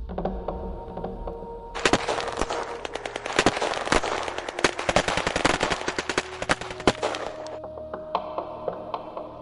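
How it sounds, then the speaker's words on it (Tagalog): Bursts of gunfire in a Tagalog audio drama set during a rebel attack on a village: loud, rapid automatic volleys with scattered single shots, dense for several seconds and then thinning out over a low rumbling backdrop. "Samantalang panaka-naka pa rin ang putukan sa paligid."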